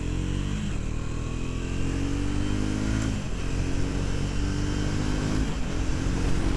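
A Triumph Scrambler 400X motorcycle accelerating hard through the gears in a top speed run, a loud, close engine drone that rises in pitch, drops at each gear change and climbs again, with steady wind roar and no talk.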